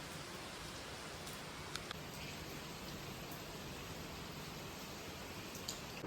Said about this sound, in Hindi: अब अभी बारिश हल्की हुई फिर से अगेन स्टार्ट हो चुकी है।